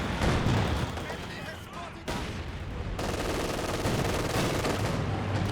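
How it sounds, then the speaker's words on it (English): In the Company of Heroes 2 strategy game, a mortar half-track fires amid dense battlefield gunfire and explosions, a continuous loud wash of shots and blasts running under commentary. "there's a good shot from the mortar half-track after that"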